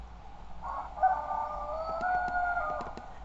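A rooster crows once, close and clear, a drawn-out call lasting about two seconds over a faint background hum.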